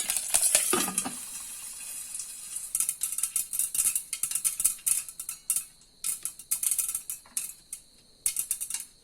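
Mustard seeds pop and sizzle in hot ghee with curry leaves for a bitter gourd chutney, giving a burst of loud crackling at first, then a run of sharp, close pops and spatters.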